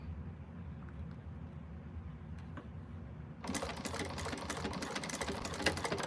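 Home sewing machine stitching small quilt-block pieces for a quilted cactus, chain piecing with a back stitch; a quiet hum first, then a loud, dense run of rapid needle clatter from about halfway on.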